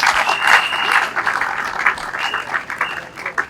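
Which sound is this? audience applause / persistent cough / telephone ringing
audience applause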